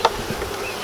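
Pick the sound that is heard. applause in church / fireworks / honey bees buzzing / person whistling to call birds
honey bees buzzing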